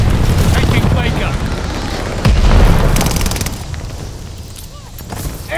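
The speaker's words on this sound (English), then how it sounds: "Heads up, enemy glide bomb coming in hot." An enemy glide bomb explodes in a Call of Duty: Vanguard multiplayer match, a deep, loud boom rising midway through dense low rumble and scattered battle noise, with game announcer voices over it.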